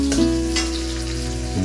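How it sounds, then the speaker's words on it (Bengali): Onions fry in oil left over from frying fish, a steady close sizzle holding throughout with a brief stir-like shift near the start and end. "পেঁয়াজটা লাল লাল ভাজা হয়ে গেছে"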